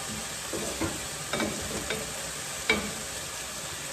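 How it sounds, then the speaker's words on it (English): Ingredients sauté lightly in a pan while dinner is made at a château: a gentle, even sizzle runs under a few distinct stirring clicks and scrapes, close by and with no voices. "that just lightly sauteing, so it's not burning anything"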